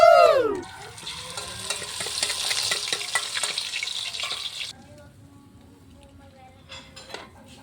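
Chicken rump, heart and gizzard fry in hot oil with a loud, steady sizzle, while a utensil stirs and clatters against the pan; the frying drops away partway through, leaving quieter scraping and clinks.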